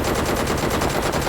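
Loud, continuous automatic gunfire in PUBG, a fast regular stream of close shots packed tightly together with no talk over it.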